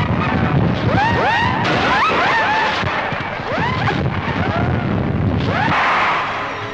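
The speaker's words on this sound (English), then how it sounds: "The independent celebration reached a climax with fireworks on the polo ground." Fireworks light up the polo ground at Ghana's 1957 independence celebration, a dense, continuous crackle of bursts and booms with rising whistling trails overlapping throughout, loud and unbroken.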